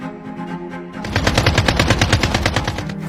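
Rapid machine gun fire in a drama scene, a quiet tonal lead-in giving way after a second to a loud, continuous burst of evenly spaced shots, with no talking.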